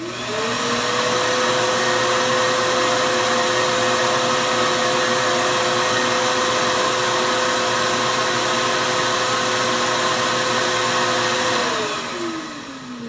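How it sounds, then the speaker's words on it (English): A pump runs together with a fan, both inside insulated housings, making a loud, steady broadband whirring drone with a faint hum. Near the end the motor pitch slides downward as it winds down, and the level drops slightly. "Now here again, we turn the pump on."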